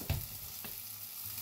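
Onions frying in a pan, a soft, steady sizzle with a couple of quick pops and spatters near the start, low and close, with no voices.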